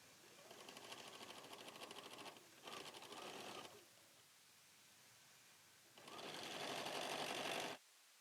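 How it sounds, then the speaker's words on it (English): A sewing machine stitching the corner of a quilt block, running in three steady bursts of rapid whirring with short pauses between, close and clear with no talking. "Let your machine pull it through."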